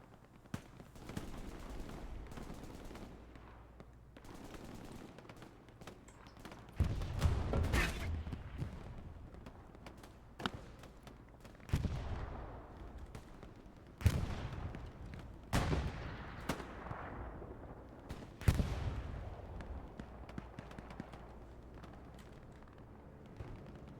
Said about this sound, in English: Bombing run coming in over West Fairville.